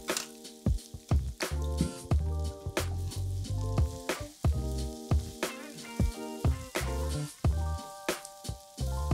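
Food sizzles and crackles in a hot pan while a utensil stirs and scrapes in uneven bursts, close up, as fried ingredients for Javanese sambal goreng are added.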